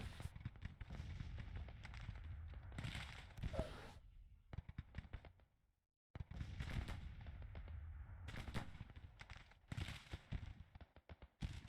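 Civil War rifles and artillery fire in Grand Tactician, heavy bursts of crackling volleys and booms that come and go, with brief near-silence in between.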